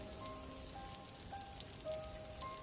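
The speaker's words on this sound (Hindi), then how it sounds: "हल्की हल्की बारिश और बिजली की चमक से अंधेरा और भी भयावह लगने लगा।" Light rain patters on a dark night in a Hindi horror cartoon, a soft steady hiss of drops with faint tonal music lines underneath, no voices.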